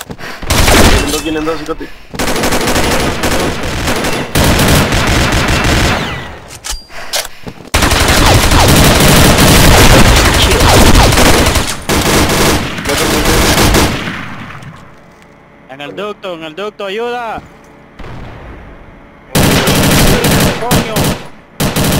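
Automatic gunfire and bursts of shots in Combat Arms Classic during a clan war match, loud and nearly continuous with brief pauses, under excited Spanish-speaking players' voice chat.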